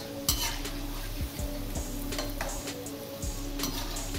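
Palm fruit batter frying in a home pan for a birthday treat, a steady close sizzle with a few stirring and utensil scrapes and clinks, no voices.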